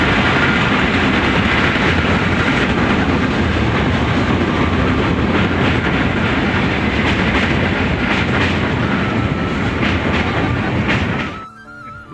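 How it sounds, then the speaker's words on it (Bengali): A train crossing the Jaldhaka rail bridge near Dhupguri makes a loud, continuous rumble with rhythmic clatter of the cars, close and filling the scene until it suddenly drops away near the end. "এখন ট্রেন যাচ্ছে।"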